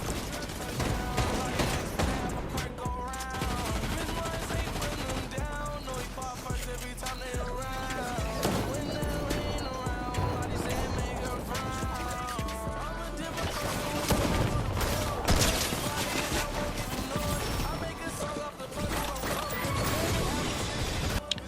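Dense Fortnite gunfire during a solo cash cup match, rapid shots layered over busy game sounds and music for the whole stretch, with a player talking throughout.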